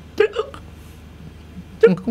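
A person imitates a hiccup with their voice, two short vocal bursts separated by a pause, set within a conversation on a health talk show.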